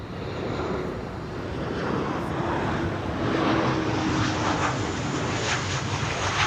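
Cargolux Boeing 747 cargo jet arriving at Amsterdam Schiphol, a broad, steady engine roar at some distance that swells slightly as it continues, with no talk.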